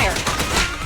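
Dense video game gunfire crackles loudly throughout a brief burst, with rapid overlapping shots and a voice mixed in.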